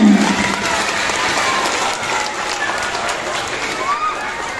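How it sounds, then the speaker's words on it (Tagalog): Clapping from a school audience for a children's choral recitation, a brisk burst of many hands that starts loud and settles into steady applause, with scattered voices and murmuring in the crowd. "palakpak naman dyan!"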